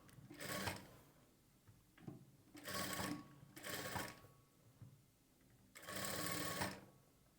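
A sewing machine stitches a blouse sleeve to the shoulder in several short bursts of rapid, even stitching separated by brief pauses, close and fairly quiet.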